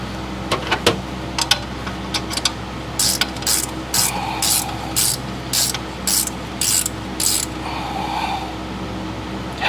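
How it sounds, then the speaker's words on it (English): A ratcheting gear wrench clicks in repeated bursts while loosening alternator bolts on a 2008 GMC Sierra 2500HD, the close, sharp ratchet strokes coming in quick rhythmic runs with a few isolated clicks first. "These are those gear wrenches."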